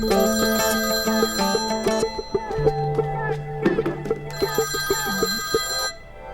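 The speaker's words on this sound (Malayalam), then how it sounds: "ഞാൻ പ്രിയൻ സാറിനെ വിളിച്ചോണ്ടിരിക്കുക." A phone ringtone plays a repeating electronic melody of bright tones, loud and close, running several seconds before stopping.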